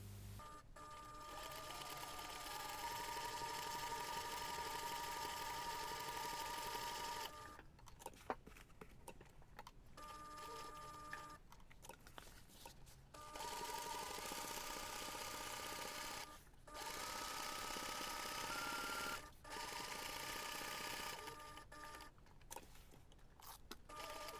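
A sewing machine stitching a zipper pocket onto a handmade bag, running in long, fairly quiet stretches of steady whirring broken by brief stops.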